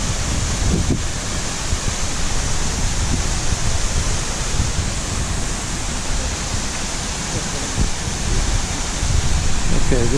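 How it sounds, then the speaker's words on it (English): Rushing water from a waterfall along a hiking trail in Dolly Sods, a steady broadband roar filling the whole clip with faint wind buffeting, close and continuous with no talk. "Okay, just past the waterfall."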